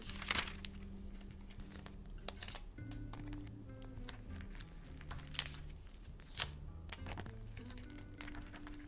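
A paper sticker for a paper cat collection is handled and stuck on, producing close, quiet crinkling and rustling with small taps and scrapes spread through the whole stretch, with no talking.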